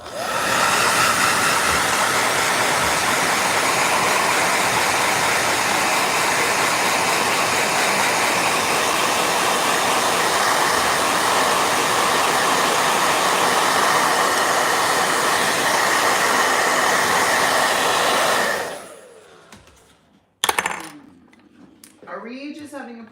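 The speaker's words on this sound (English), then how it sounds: "Blow dryer." A blow dryer drying a watercolor painting runs as a loud, steady roar for about eighteen seconds, then shuts off, leaving quiet with a few soft clicks and handling noises.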